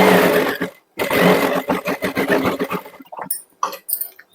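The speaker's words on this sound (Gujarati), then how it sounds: "હવે બીજી દોરીને પણ આપણે સિલાઈ લગાવી દઈએ" A sewing machine stitching a drawstring strip for a blouse runs in loud close bursts, pauses briefly, then resumes with a rapid whirring chatter before slowing into a few short stuttering runs.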